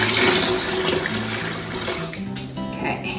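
Four cups of water pour into a pitcher for a homemade mango lime electrolyte drink, a continuous splashing, gurgling stream heard close up that shifts in tone as the pitcher fills.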